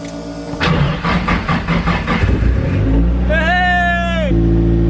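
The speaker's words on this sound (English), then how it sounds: "Let's see if we have rotation of the engine." A Nissan 180SX engine cranking with rhythmic chugging, then catching and revving up with a rising whine before settling into a steady idle, loud and close.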